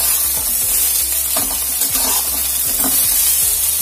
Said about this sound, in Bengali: আবারও সমস্ত সবজি 3 থেকে 4 মিনিট মতন ভেজে নেব।